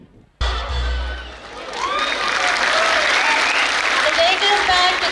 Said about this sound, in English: Come on everyone, let's cheer for them.